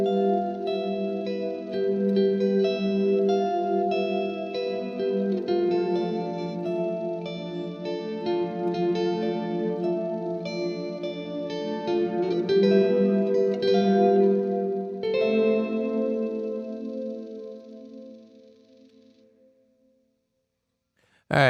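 Guitar run through a Walrus Audio Slötvå multi-texture reverb pedal, sustained layered notes blooming into a string-like wash, played alone and fading into a long decaying tail.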